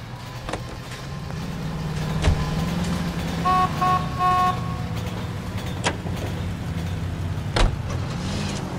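A car engine hums steadily while driving through 1940s Los Angeles in the video game L.A. Noire, with brief horn toots in the middle and occasional clicks and thumps over the low drone.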